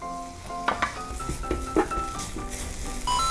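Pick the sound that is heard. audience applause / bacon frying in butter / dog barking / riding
bacon frying in butter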